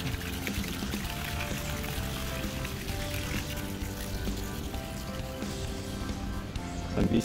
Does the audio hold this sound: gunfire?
no